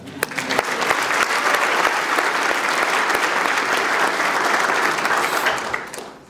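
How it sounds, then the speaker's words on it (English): A large audience at a State of the Town ceremony claps enthusiastically for several seconds, a dense, steady wave of applause that swells quickly and fades at the end. "Now, let's really clap at that."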